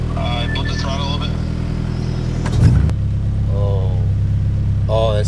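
A project car's engine idling and then blipped with a short throttle rise, a steady low rumble with one brief louder surge in the middle, under people talking nearby.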